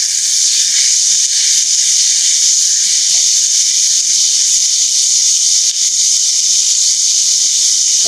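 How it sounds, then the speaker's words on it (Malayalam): Ingredients sizzle steadily in a hot pan while being sautéed for a Thai green curry pasta, a loud, continuous bright hiss with no pauses and no talk. "ഒരു മിനിറ്റ് ഒന്നര രണ്ട് മിനിറ്റോളം നമ്മൾ അത് വഴറ്റി"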